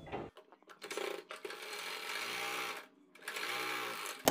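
A sewing machine runs in short bursts stitching a blouse hem, a fast whirring buzz that starts and stops with brief quiet pauses, close and fairly faint.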